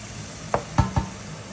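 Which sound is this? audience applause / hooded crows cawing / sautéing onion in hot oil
sautéing onion in hot oil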